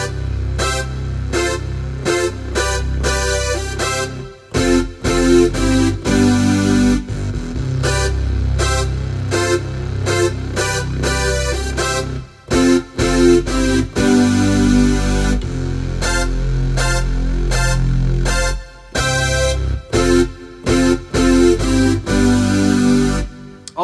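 Synthesizer playing the opening hook of a 1980s song, loud bright stabbed chords in a bouncing rhythm over a sustained bass line, with a couple of brief pauses and no talking.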